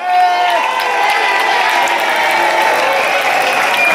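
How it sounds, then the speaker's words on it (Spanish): A crowd at the Fonz festival claps for the team from La Era, dense and loud from the start and continuing evenly, with cheering voices woven through the clapping. "palmas para los de la era"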